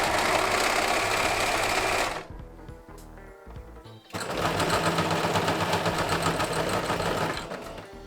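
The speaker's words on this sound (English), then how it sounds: "using my normal sewing machine to finish the edge" A household sewing machine hems the edge of a sweatshirt, a close, rapid mechanical whirr that runs steadily, drops to a quieter pause for about two seconds, then resumes at full speed.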